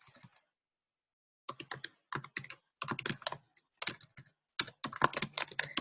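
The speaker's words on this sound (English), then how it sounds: "If I could type, that'd be helpful." Quick bursts of typing on a computer keyboard, close and crisp, with short pauses between clusters of keystrokes and no talk.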